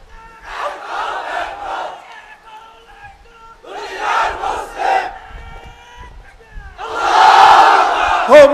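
A large crowd at a Bangla religious gathering shouts the takbir, three loud unison chants separated by pauses, the final one the loudest and longest.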